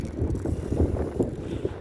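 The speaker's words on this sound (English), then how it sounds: "Here we go with the wind, boys." Wind gusting across an outdoor skatepark, heard as a steady, buffeting rumble on the microphone with low, irregular thumps, close and fairly loud, no talking.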